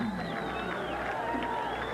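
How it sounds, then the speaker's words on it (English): Crowd at a 1988 college baseball game between Florida State and LSU, a continuous distant murmur of cheering and chatter swelling in the stadium, with a few whistles rising above it. "the crowd beginning to come to life here"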